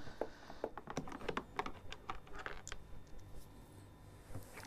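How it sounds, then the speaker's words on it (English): Self-tapping screws being backed out of the plastic case of a Hozelock 2494 floor-standing hose reel, close up: a quick, irregular run of sharp clicks and ratcheting taps over a low background, with no voices. "there are a series of holes around the periphery of the reel that we're going to undo the screws from"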